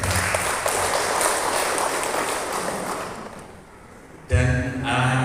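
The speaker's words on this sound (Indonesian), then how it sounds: "Tepuk tangan untuk SMP jalan." A school audience claps for a junior high school, a dense burst of applause that fades out, followed by a sudden louder jolt of handling noise and room sound.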